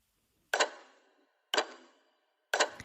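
A castle clock gives three sharp, evenly spaced strikes about a second apart, each ringing out and decaying quietly in an otherwise silent room.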